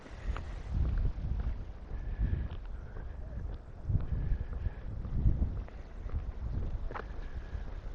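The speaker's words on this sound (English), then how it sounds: "Quite breezy, so hopefully the wind noise isn't too bad." Gusty wind rumbles against a lapel microphone on a breezy walk along the Devonian Pathway in Regina, with low buffeting surges that rise and fall every second or so and no voices.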